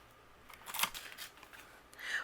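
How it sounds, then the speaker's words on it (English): Scissors snip through paper while trimming a stamped holiday card, a few quiet close cuts in a short burst with a brief sliding slice at the end and no talking. "I'm just going to take my scissors and leave a little bit of a border."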